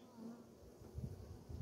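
Faint, steady buzzing of honeybees droning close by at an apiary, with a low hum that swells slightly toward the end.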